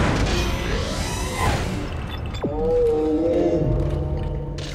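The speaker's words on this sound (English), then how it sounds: "Why does it sound like there's a space whale?" A deep, drawn-out whale-like creature call echoes through a derelict space station in the sci-fi horror game Dead Space, a swelling moan under a dense low rumble of ambience, with a falling sweep midway.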